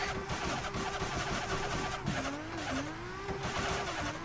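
Car drifting uphill at a raceway after an e-brake, foot brake and clutch kick entry, a continuous engine drone with rising and falling revs and tire squeal, fairly loud and close.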